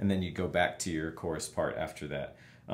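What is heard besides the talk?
No everyday noises stand out.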